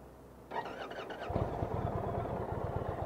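A Kawasaki motorcycle engine turns over on a keyless push start, a brief starter whine followed by the engine catching into a steady, loud, close throbbing idle.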